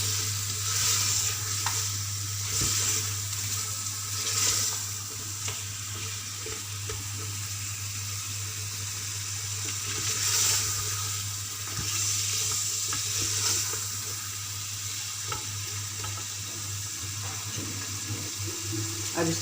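Potatoes sizzle steadily in masala in a pan for aloo gosht while a utensil stirs and scrapes at intervals, with a constant low hum underneath and no talking.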